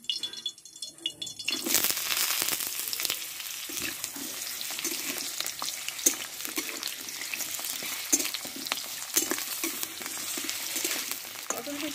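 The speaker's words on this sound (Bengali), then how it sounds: "দিয়ে এই তেলে পটলটা আমি কষে নেব।" Pointed gourd frying in hot oil in a pan, with a loud continuous sizzle that starts abruptly and carries on, broken by occasional stirring scrapes and clinks.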